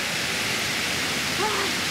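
Steady rain in Milan, a broad continuous hiss with no breaks, heard while out biking; a faint voice rises briefly near the end.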